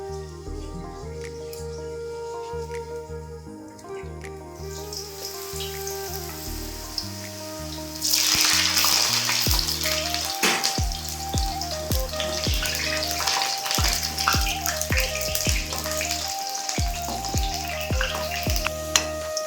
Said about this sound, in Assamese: কাটি থোৱা আলু কেইপিচ ফ্ৰাই কৰি ল'ম প্ৰথম।